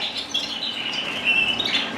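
Small native finches and canaries chirp and twitter steadily in an indoor canary bird room, a continuous high-pitched chatter of several birds with soft flutters, no voices.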